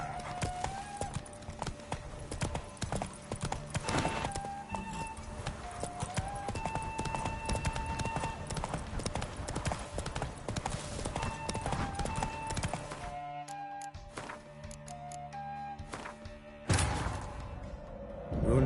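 Hooves of a galloping horse in The Witcher 3 clip-clop in a fast, steady rhythm close by, under a musical score with a brief pause near the end.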